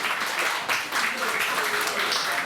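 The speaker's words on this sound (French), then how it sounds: "Je vous demande aussi d'applaudir l'un des piliers de cette organisation interculturelle, s'il vous plaît." Audience clapping at an intercultural festival at a castle in Gouvy, Belgium, a dense, fairly loud wash of hands with voices blended into the crowd noise throughout.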